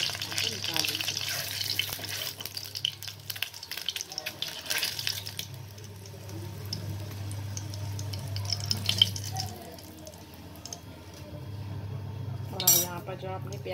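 Eggs fry in a pan with oil for an egg curry, a close, steady sizzle with clinks of utensils, some water-like splashing and a brief louder burst near the end.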